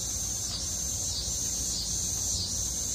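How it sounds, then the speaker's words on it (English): Katydids or cicadas buzz in a steady, dense high-pitched drone on a summer evening outdoors beside a barbecue smoker, pulsing slightly, continuous and fairly close, with no talk. "Katydids, cicadas, whatever you wanna call them."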